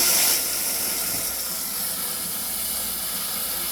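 Water runs steadily over red lentils being rinsed, a continuous close hiss like a running tap that holds at an even level from start to finish, with no voices.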